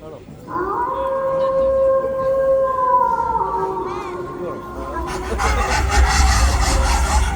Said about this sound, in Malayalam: തെരുവ് പട്ടികൾ